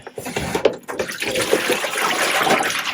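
Avocado-dyed fabric is rinsed in water, sloshing and splashing close by in a steady, continuous wash that swells and dips with the movement of the cloth.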